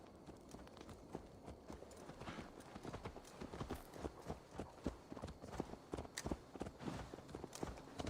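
Hooves of a horse in a video game clip-clop in a steady walking rhythm, close and distinct, over a quiet ambient background.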